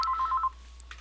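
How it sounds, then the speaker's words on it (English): A telephone rings with a fast warbling electronic trill for about half a second, then stops, leaving a faint hum and a couple of soft clicks. "my phone just rang"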